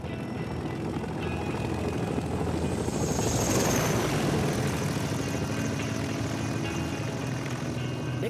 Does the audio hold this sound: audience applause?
no